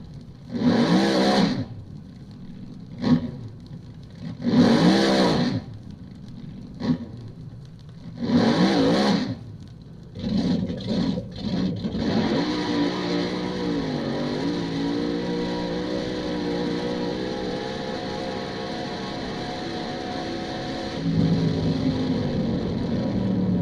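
AA/Fuel dragster or funny car on a quarter-mile run, heard from onboard beside the seat: several loud throttle blips, then a sustained roaring engine drone that shifts pitch near the end, close and dominant.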